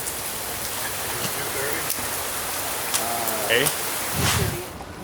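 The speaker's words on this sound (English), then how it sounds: "And it's raining even worse here." Heavy rain pours steadily in a dense, hissing wash, with occasional faint voices and a few brief clatters beneath it.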